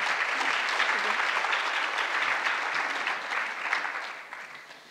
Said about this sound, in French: Je vous invite à les applaudir pour la réussite.